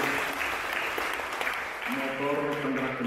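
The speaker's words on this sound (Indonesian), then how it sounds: "Kita memberikan tepuk tangan lagi buat masing-masing di timur" An audience applauds at an inauguration ceremony in NTT, the steady, moderately loud clapping running throughout while a voice speaks over it toward the end.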